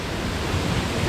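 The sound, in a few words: water flowing at Deojhar waterfall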